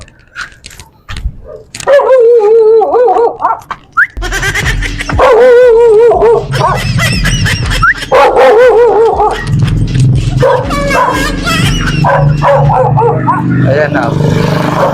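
Several dogs bark and yip loudly in an outdoor alley scene in the Philippines, sharp repeated barks overlapping with shouting voices and general commotion throughout.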